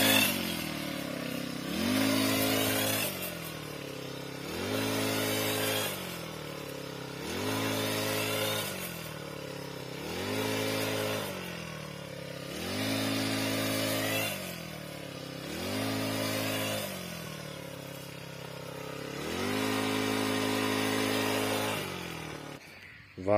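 A petrol grass cutter machine running in a village, its engine revving up and dropping back in a steady repeating cycle, loud and close, with no voices.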